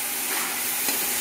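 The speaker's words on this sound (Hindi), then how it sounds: "हम इसको अच्छी तरह से चम्मच चलाएंगे ताकि मसाले जो हैं" Chicken pulao masala with ginger-garlic paste and coriander stirred by a spoon in a hot pot, giving a continuous close sizzle with a brief scrape partway through, no voices.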